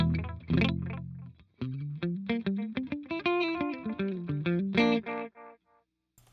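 A guitar played through a delay pedal set with tap tempo, a run of plucked notes followed by warm, slightly distorted repeats that trail off into quiet, heard clearly and alone.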